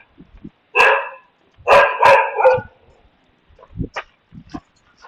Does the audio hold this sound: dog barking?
yes